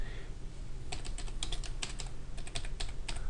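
Keys tapped on a computer keyboard, a quick uneven series of crisp clicks heard close against faint background hiss, with no talking.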